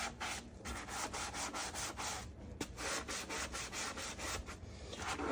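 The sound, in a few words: scrubbing the curves of a quartz composite sink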